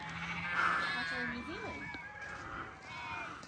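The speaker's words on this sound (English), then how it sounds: "I don't think I've ever seen so many sheep in one paddock." Sheep crowded in a large paddock let out a few wavering bleats at middle distance over light wind and outdoor hush, with a person talking faintly now and then.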